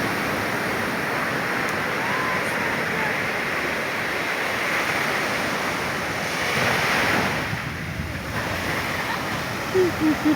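Waves wash steadily onto the beach at Anyer, Banten, a continuous loud surf roar mixed with wind buffeting the microphone, with brief voices near the end.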